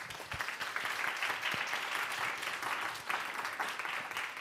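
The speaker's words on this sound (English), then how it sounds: "Let's have a round of applause for Steve." Audience applause after a talk on digital payments, a dense continuous patter of many clapping hands at moderate volume with no speech over it.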